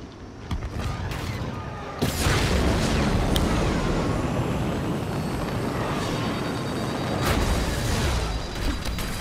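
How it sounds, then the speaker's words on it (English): In the Star Wars Battlefront II video game, a proton torpedo detonates with a heavy booming blast that swells into a sustained roaring rumble, layered over loud starfighter engine noise and continuing combat effects. "Deploying proton torpedo."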